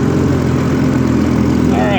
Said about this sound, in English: Definitely all the motor we need for the pond.